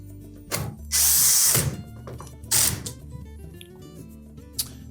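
A power drill drives subtop screws into a Whirlpool range, two short loud whirring bursts of the drill, close up, with faint clicks and metallic handling in between.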